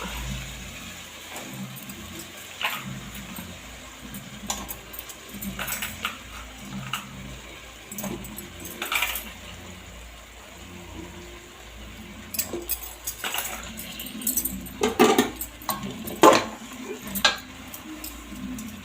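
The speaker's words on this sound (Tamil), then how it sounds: "கட் பண்ணி வச்சுருக்கிற காய்களை போடுறோம் கத்திரிக்காய் உருளைக்கிழங்கு" Cut brinjal and potato pieces go into a pan and are sautéed, with scattered clinks and scrapes of a spoon against the pan over a low background rumble.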